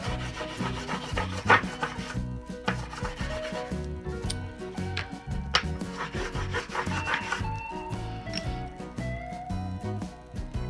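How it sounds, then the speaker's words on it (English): Graphite is rubbed back and forth onto the back of a paper image taped over linoleum for a printmaking transfer, a continuous close scratchy scrubbing with faint knocks and no speech. "So you're just going to rub your graphite onto the back of your image."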